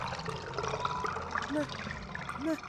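Cartoon water flushing and gurgling down a sewer in the adventure game Samorost 2, a short watery pour with a couple of bubbly blips, heard under someone talking.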